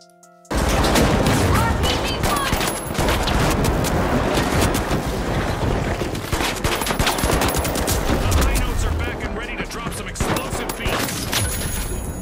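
Sustained rapid gunfire in The Finals, a competitive shooter video game, with dense overlapping bursts and impacts filling the whole stretch after a brief quiet start, loud and continuous throughout.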